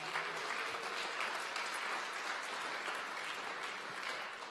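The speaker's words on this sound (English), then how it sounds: "why don't you clap your hands for God's word?" Church congregation clapping their hands together in a sustained round of applause, a dense, even wash of many hands from a mid-distance, steady and lively for several seconds without talk.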